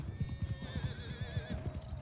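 Horses gallop in the medieval battle game Mount & Blade 2 Bannerlord, with rapid, rhythmic hoofbeats pounding close and loud. A short neigh rises over the drumming hooves.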